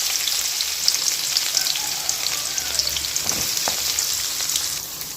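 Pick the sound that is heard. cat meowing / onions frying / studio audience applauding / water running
onions frying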